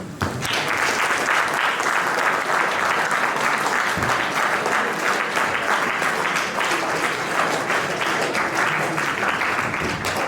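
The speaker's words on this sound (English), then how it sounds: "A big round of applause." A school hall audience gives a long, even round of applause for a guest at an astronomy workshop, dense clapping at a steady level throughout with no talk.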